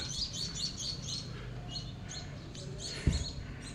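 Small birds chirp and tweet repeatedly in quick bursts among many trees against faint background noise, with a single soft thump near the end.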